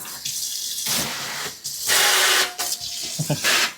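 Water from a tap sprays in a shower-like pattern at a home in Sri Lanka, coming in loud bursts of rushing, splashing flow that stop and restart several times, with no speech.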